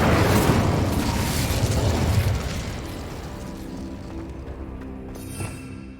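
A fire spell in Hogwarts Legacy bursts in a loud, roaring blast that swells at once, then rumbles and crackles as it slowly fades, with a sharp pop near the end.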